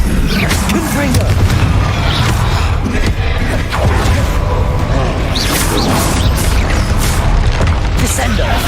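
Confringo fire blast spell explosions from the video game Hogwarts Legacy during a final battle, dense booms and crashes with whooshes layered over continuous game music and effects, loud throughout with voices talking over it.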